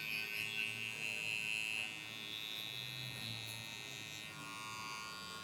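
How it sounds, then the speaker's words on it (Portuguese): An electric finishing clipper held inverted, cutting the lower part of a low fade haircut, a steady close high buzzing drone running throughout with slight shifts in pitch. "Vem usando a máquina de acabamento na parte de baixo, a máquina invertida assim, ó."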